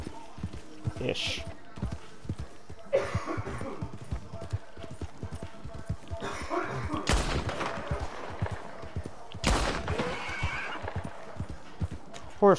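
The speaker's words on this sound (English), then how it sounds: "Horse, quit screaming." In Red Dead Redemption 2, horse hooves clip-clop steadily while a horse lets out loud whinnies, with bursts of gunfire and talk mixed in.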